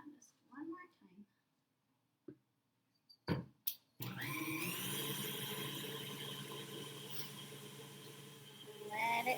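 An electric mixer beating banana bread batter switches on after a few soft taps and knocks, then whirs steadily and loudly at close range until the end, motor pitch rising slightly at the finish; a voice speaks briefly before it starts.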